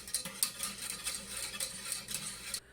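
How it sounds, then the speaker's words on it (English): Whole milk being stirred in a pot on the stove, a steady scraping and clinking of a utensil against the pan with soft rhythmic swishes, close and moderately quiet, no talking. "Rihanna is stirring our whole milk on the stove, making sure that that doesn't burn."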